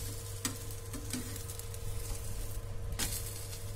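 Semolina uttapam frying on a hot pan, a steady close sizzle and crackle with a couple of sharp scraping clicks as the pancake is turned over.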